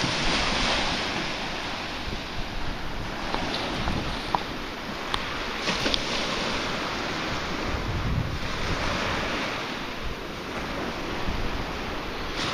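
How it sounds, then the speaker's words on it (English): Small ocean waves wash along a beach, a continuous rushing surf mixed with heavy wind buffeting the microphone, steady and close throughout with no voices. "Waves are small. I like them."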